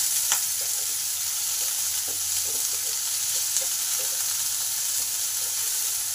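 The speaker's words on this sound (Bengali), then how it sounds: "পেঁয়াজটাকে একটু লাল লাল করে ভেজে নেব" Onions sizzling steadily in hot oil in a pan after garlic has browned, for a jute leaf (pat shak) fry; a continuous broadband hiss with a few soft clicks of stirring, close and alone with no talk.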